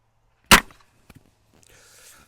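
A blunt crossbow Crown Bolt strikes pigskin with one sharp, loud crack, followed by a couple of faint ticks and a soft rustle fading out in an otherwise quiet setting.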